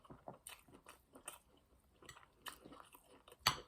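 Someone eats egg at close range in a mukbang, with crisp bites and wet chewing in an uneven rhythm and a sharper crunch near the end. There is no talking.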